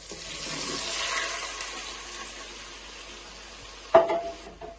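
Stock poured into a pan of browned sausages makes a rushing, sizzling pour that fades, followed by a sharp clatter near the end, close and with no speech.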